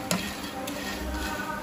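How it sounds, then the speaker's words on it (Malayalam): Dried shrimp roast in a pan over medium heat with a steady, close crackling sizzle, broken by a few light taps of a stirring spoon. "ചെമ്മീൻ വറുത്ത് വന്നിട്ടുണ്ട്."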